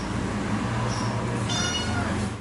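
A 30-day-old kitten with paralysed hind legs, left at a municipal animal shelter, meows continuously and close by for about two seconds, with steady high cries over a constant low background hum.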